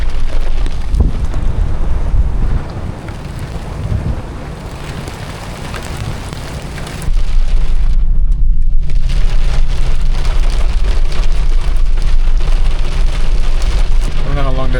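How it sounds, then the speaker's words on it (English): Rain drums steadily on a vehicle driving from Sublime toward Sedona, a loud, dense patter mixed with wind and road roar that briefly quiets, then returns at full strength. "I think I hit a bit of rain."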